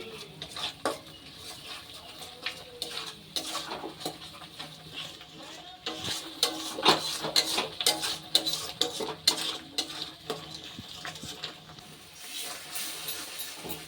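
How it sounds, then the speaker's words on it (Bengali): Ground spices and spice paste are stirred and fried in a pan, with repeated close scraping and clinking of a spatula against metal over a faint sizzle, continuing steadily throughout. "এবার এই সব গুঁড়ো মশলা আর বাটা মশলা একসাথে একটু ভালোভাবে কষিয়ে নেব।"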